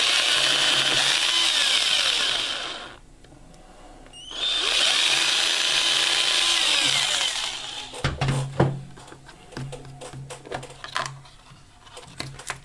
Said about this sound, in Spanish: Hacemos los dos agujeros y ya estará prácticamente lista.